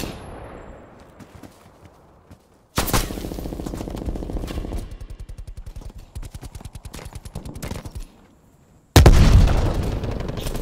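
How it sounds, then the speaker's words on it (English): A frag grenade blast and heavy automatic gunfire in Call of Duty: Black Ops Cold War multiplayer Hardpoint on the Satellite map, with a sudden loud burst, sustained rapid rattling fire, a brief lull, then another loud explosive impact. "Sending frag grenade."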